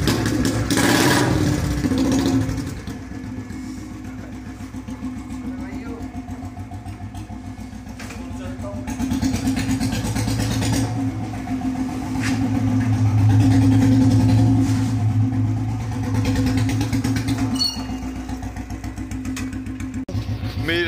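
A Royal Enfield Bullet motorcycle, just back from service, idles with a steady low thumping beat that swells and eases with light throttle. Voices talk nearby over it.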